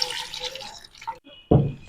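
A glass of water poured into a pot of cauliflower and beef curry, a brief splashing gush that starts suddenly and fades quickly, close by, with no talk.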